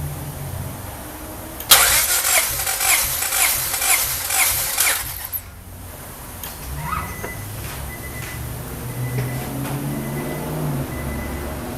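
A 1995 Honda Del Sol VTEC with a JUN 1.8L stroker engine cranks over during a compression test, a loud rhythmic whirring starter pulse lasting about four seconds before stopping abruptly, followed by quiet shop ambience.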